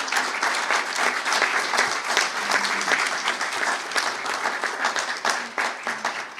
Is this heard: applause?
yes